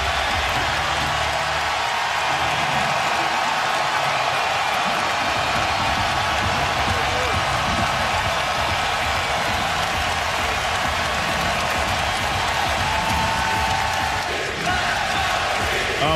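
A packed basketball arena crowd roars and applauds during a 2012 NBA Finals game between the Thunder and the Heat, a dense, loud, unbroken wall of cheering and clapping lasting throughout.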